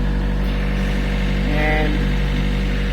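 An excavator engine idles steadily nearby, its low hum rising briefly in pitch as the throttle is nudged up around the middle, then settling back.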